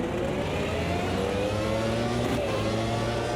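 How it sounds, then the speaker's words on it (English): An F1 car engine held at full throttle in a racing game, a steady loud high-revving whine with layered harmonics sustained throughout. "I'm full throttle."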